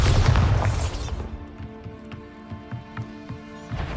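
A Bombarda spell blast in Hogwarts Legacy erupts as one loud, deep boom that fades within a second, followed by a quieter stretch of rhythmic low thuds and crackles, with another burst rising at the end.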